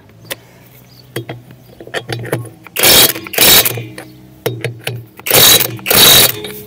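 A cordless electric 650 Nm impact wrench tightens the bolts on a tractor wheel rim in two pairs of loud, rattling hammering bursts, each lasting about half a second, separated by quieter clanks and handling noises close by.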